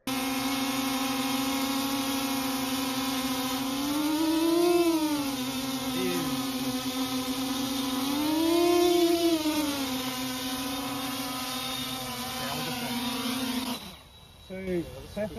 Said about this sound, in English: you can actually hear the difference in motors.